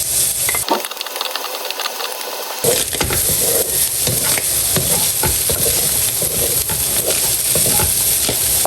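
Garlic and onion sautéing in hot oil for a Filipino banana-heart lumpia filling, a loud steady sizzle with scraping stirs, briefly interrupted near the start.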